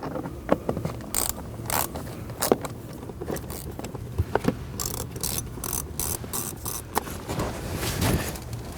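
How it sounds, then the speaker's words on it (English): Plastic cover near the blower motor resistor being pried off a 2007-99 Chevrolet Silverado, with close, irregular clicks, snaps and rattling plastic bursts. "So we're just going to remove this cover."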